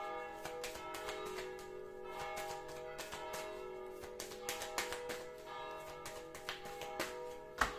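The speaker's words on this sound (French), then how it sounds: "j'ai l'église à une 40aine de mètres de moi, alors c'est pour ça qu'on entend très fort les cloches" Church bells ringing from a church about forty metres away, a series of repeated metallic strikes with long ringing tones, fairly quiet overall and growing more pronounced toward the end, with no voices.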